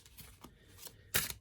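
A deck of tarot cards is shuffled during a card reading, giving a few quick papery riffles and snaps in a quiet room, with a louder burst near the end.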